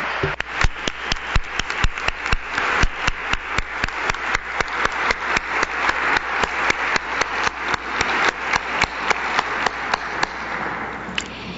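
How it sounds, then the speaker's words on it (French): An audience applauds Indigenous women leaders at the tenth-anniversary event of À voix égales. The applause is loud and close, with sharp, distinct, steady claps that carry on for the whole stretch. "Toutes les dirigeantes autochtones doivent se lever et j'aimerais que vous les applaudissiez."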